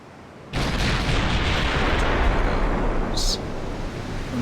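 Naval gunfire in Ultimate Admiral: Dreadnoughts, a heavy booming salvo that hits suddenly and rolls on as a loud, sustained rumble, with a brief sharp crack partway through.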